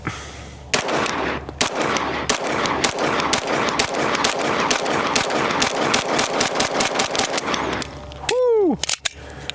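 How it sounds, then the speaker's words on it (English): Rapid pistol fire from a Glock-magazine handgun shooting SuperVel 115-grain ammunition at about 10 yards, a loud string of sharp cracks in quick succession, followed near the end by a ringing metallic clatter. "I'm gonna shoot some SuperVel 115s."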